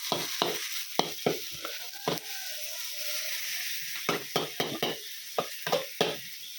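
Chicken with red curry paste sizzles steadily in a hot wok while a utensil scrapes and clatters against the metal in repeated quick strokes, close up.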